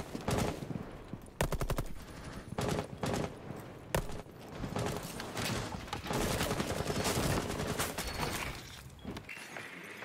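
Rapid submachine-gun bursts from a P90 in the video game Rainbow Six Siege, loud and close, firing in several clustered volleys with short gaps and some crashing impacts between them.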